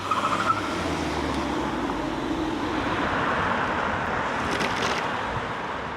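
Steady rumbling and rushing noise from a train carrying passengers to the Hungaroring on Hungarian Grand Prix race day, a continuous broad roar with wind buffeting and no talk.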